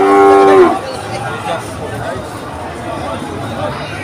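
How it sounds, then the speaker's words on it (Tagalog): Water buffalo and cattle crowded on a truck at a livestock market, one loud drawn-out moo up close at the start, then a noisy backdrop of crowd chatter and people talking. "Kalabaw at saka baka."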